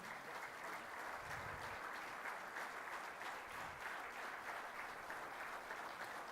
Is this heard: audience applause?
yes